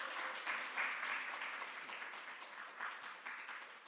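Church audience applauding to welcome a speaker at a family seminar, a dense, sustained wash of clapping from a crowd that holds steady for several seconds, fairly distant and even.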